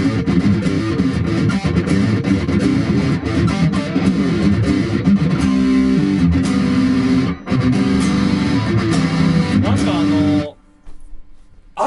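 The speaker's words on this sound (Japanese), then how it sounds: "すっげえ歪みます、これ。" An electric guitar runs through a distortion pedal with tone and gain turned fully up, producing a thick, saturated, loud wall of heavily overdriven chords and riffs that plays continuously before cutting off abruptly near the end.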